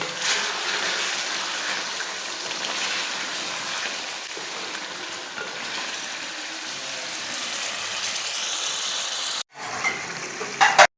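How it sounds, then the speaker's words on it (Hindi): Achar gosht being fried in a pan with yogurt, lemon juice and spice masala, giving a steady broadband sizzle throughout with no talk, followed near the end by a brief gap and a few louder clatters. "अब हम इसे अच्छी तरह भून लेंगे"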